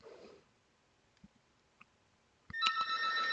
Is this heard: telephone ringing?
yes